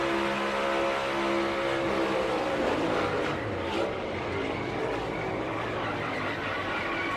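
NASCAR stock cars race at Atlanta in a steady, loud roar of engines, with one car briefly lifting off the throttle in the thick of the pack before contact.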